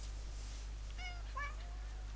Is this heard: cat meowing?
yes